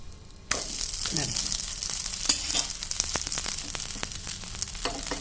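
Vegetable dosa cooking on a hot griddle, a sudden loud sizzle as it hits the pan, then steady crackling frying with scattered pops and light scraping.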